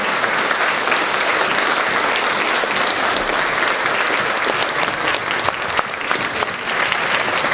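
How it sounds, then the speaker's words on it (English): An audience at a business club talk breaks into sustained, dense applause, loud and steady throughout with no pause. "How about a big round of applause?"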